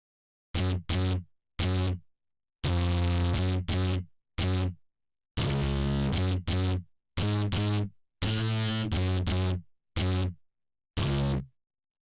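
Fat Frog bass guitar preset in MOTU MotoBass with the echo turned down, playing a sequence of punchy, buzzy synthetic bass notes in short bursts with gaps between them, loud and close with no voices.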